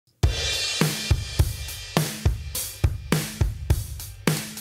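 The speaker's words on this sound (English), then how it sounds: "The drums parallel compression sounds like this." A punchy, heavily compressed drum beat with parallel compression plays alone, with thick kicks and cracking snares in a steady groove and a dense, sustained roar of cymbals.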